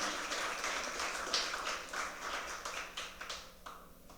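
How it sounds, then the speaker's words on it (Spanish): Church congregation applauding in a dense, steady patter of many hands at moderate distance, thinning toward the end, with no voices over it. "Dale fuerte el aplauso al Señor"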